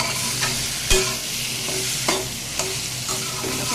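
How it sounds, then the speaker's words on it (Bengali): Taro leaves being stirred into spices and sesame paste in a hot pan, sizzling steadily while a spoon scrapes and knocks against the pan at irregular intervals, close up. "এবার এই যে কচুর শাকটা এর মধ্যে দিয়ে দেবো, দিয়ে একটু নাড়াচাড়া দিয়ে দেবো"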